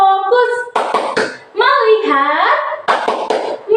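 Children in a classroom clap in short rhythmic bursts during a chanted clapping routine, their young voices chanting loudly between and over the claps.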